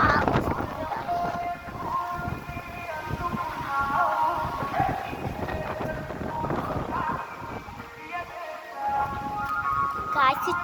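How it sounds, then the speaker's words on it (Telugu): Wind blowing outdoors as the weather suddenly turns, with trees swaying and raindrops starting, heard as continuous rumbling gusts buffeting the microphone while a person talks over it. "గాలి"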